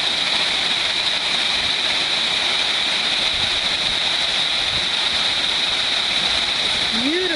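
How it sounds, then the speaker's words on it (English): Steady rushing water pours continuously, a full broad roar of a waterfall splashing into a resort pool at Kings' Land, Waikoloa, Hawaii, with no break across the stretch. "And then into a nice waterfall pool."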